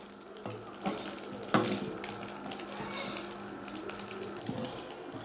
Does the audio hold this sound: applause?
no